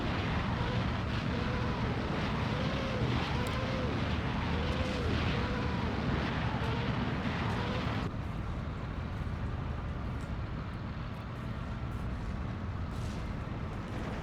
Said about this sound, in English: Looks like enemy rocket fire coming in from this guy.